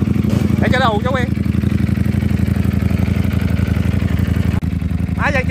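A motorcycle engine with a fault idles with a rapid, irregular knocking clatter throughout, close by, while people talk briefly over it.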